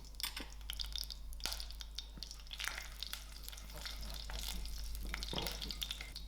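Fennel, cumin and mustard seeds frying in hot oil, a steady close sizzle with scattered sharp pops and crackles throughout, no voices.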